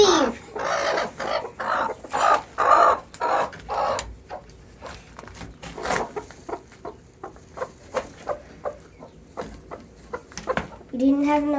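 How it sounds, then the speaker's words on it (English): Hens cluck in quick bursts close by while gathering eggs in a coop, the sharp calls coming in irregular runs and fading to softer clucks, with a person's voice mixed in. "Rude chickens."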